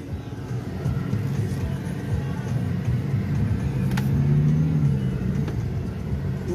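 A 2021 MG Gloster SUV drives smoothly, giving a steady low engine and road rumble from inside the cabin, with a few faint clicks and no speech.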